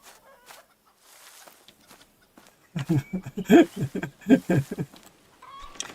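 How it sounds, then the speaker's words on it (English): A farm chicken clucking close by in a series of loud, irregular bursts after a few quiet seconds, with a faint background hum. "Chicken's laughing at me, he is."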